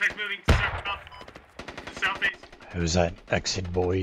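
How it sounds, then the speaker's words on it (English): Gunfire rattles through a military video game in sharp, rapid bursts and single shots, some near and some distant, while players talk over the shooting. "I'm just running in the woods towards the gunshots."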